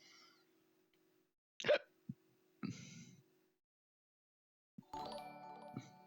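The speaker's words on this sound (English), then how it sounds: "Hold on, I got a hiccup." A person's hiccup: one sharp, abrupt gulping burst followed by a softer short sound and a later breathy noise, near and quiet, among faint background tones with brief pauses of silence.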